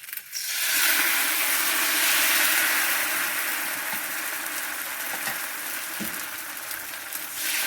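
Rice batter for Malvani ghavane poured onto a hot pan or tava, sizzling and hissing steadily and loudly for several seconds, with a few faint clicks near the end.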